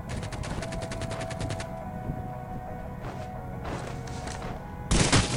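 Video game gunfire rattles in a fast automatic burst, then scattered shots follow, ending in a loud close volley, all over steady game background noise.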